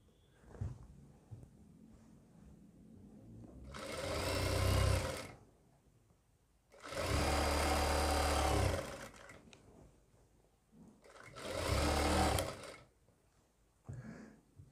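A sewing machine stitches a churidar pajami in three separate bursts of steady motor whirring, each a second or two long, with quiet pauses between them.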